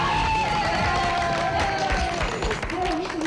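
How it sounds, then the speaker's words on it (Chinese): Supportive applause breaks out from a crowd gathered outside a Taipei courthouse and prosecutors' office after an obscenity acquittal, sustained clapping with some cheering under a reporter's voice and street noise. "法庭，地检署外响起支持的掌声。"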